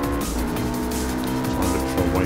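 A race car engine in the Project Cars racing game on Xbox One whines with shifting harmonic pitch, rising and falling under gear changes, moderately loud and continuous over game background noise.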